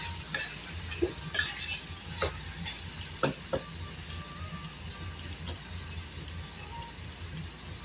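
Meat being sautéed in a pan before pressure cooking, a quiet steady sizzle with a few sharp clicks and scrapes of stirring scattered over it.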